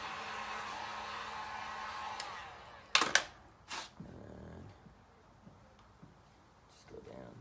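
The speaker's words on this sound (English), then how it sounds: "Heat gun it." A heat gun blows with a steady airy whir while warming vinyl wrap on a Nissan 350Z bumper, then cuts off, followed by a few handling knocks and quieter rustles.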